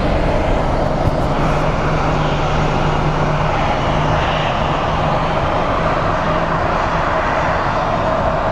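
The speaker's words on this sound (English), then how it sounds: "our next plane that is rolling out is an American Airlines A320" An American Airlines A320 rolls out on the runway at Phoenix Sky Harbor International Airport, its jet engines giving a loud, steady roar with a constant low hum that holds evenly throughout.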